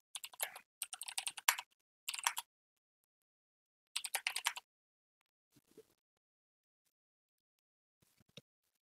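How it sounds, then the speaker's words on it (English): Quiet, close keystrokes clatter on a computer keyboard in a few quick bursts separated by pauses, ending with sparse isolated taps, no speech. "if I can type"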